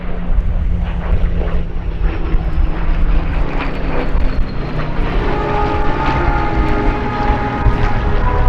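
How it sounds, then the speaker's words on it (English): WWII propeller fighters, a Hurricane Mark 2C and Spitfires, make a flying display at the RAF Cosford Airshow. Their piston engines give a loud, sustained, rumbling drone that swells and shifts in pitch as they pass overhead. "the display instead consisted of a Hurricane Mark 2C, Spitfire 2A, Spitfire 5B and Spitfire LF Mark 16E"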